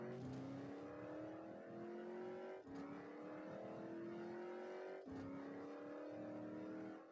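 Ford car engine in the Rebel Racing game, revving hard through three rising gear pulls, each climbing in pitch and then briefly breaking off at the shift, steady and close.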